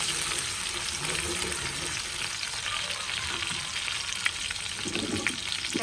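Chopped onion frying in a pan for a home-cooked shrimp dish, a continuous close sizzle and crackle with light stirring scrapes, no talking.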